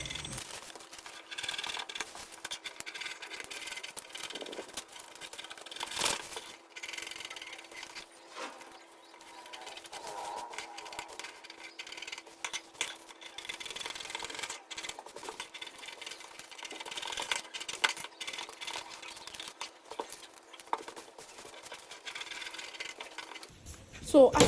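Scissors cut out paper corset pattern pieces in a long, quiet stretch of crisp snips and rustling paper. A steady faint hum runs underneath, with occasional soft knocks on the work surface.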